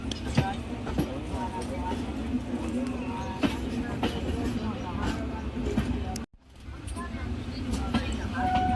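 The Taj Express, train 12279/80, arriving at Agra Cantt station: a continuous low rumble of rolling coaches with faint clicks and clatter, a brief dropout near the end, while someone talks over it.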